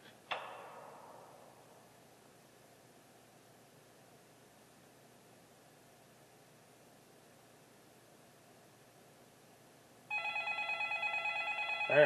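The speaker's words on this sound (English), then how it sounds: "Alright, we get a phone call." In the video game Five Nights At Smudger's, a telephone starts ringing after a long stretch of faint hiss, its repeated electronic ring arriving near the end.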